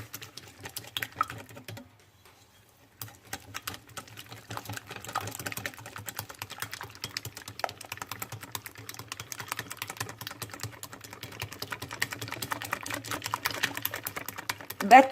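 Egg yolks whisked vigorously by hand in a bowl, giving a dense, fast, steady rattle of the whisk that runs almost the whole time. It stops briefly near the start, then resumes.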